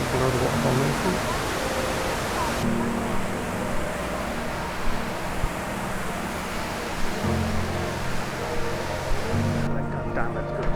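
A waterfall in Singapore roars as a steady, broadband rush of falling water, loud and close, with slight shifts in texture throughout.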